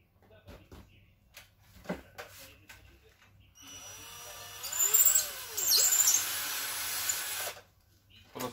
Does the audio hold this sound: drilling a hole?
yes